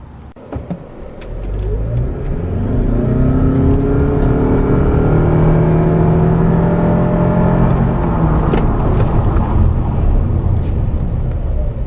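A Toyota Avalon or Hyundai Sonata hybrid pulls away from a stoplight: a loud, close engine and drivetrain whir rises steadily in pitch as the car accelerates, with road noise building underneath.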